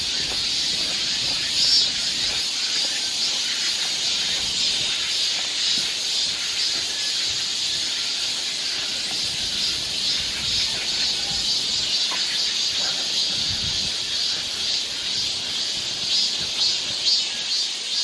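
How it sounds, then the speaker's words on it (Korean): Cicadas drone in a continuous high, shrill chorus through a shaded summer forest park on a hot day in Seoul, steady and fairly loud with no talking. "매미 소리가 아주 한창 울고 있습니다."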